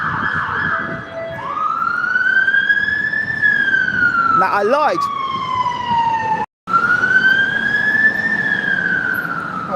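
Emergency vehicle siren wailing along a Hackney street, a loud, close tone sweeping slowly up and down over traffic noise, with someone speaking briefly.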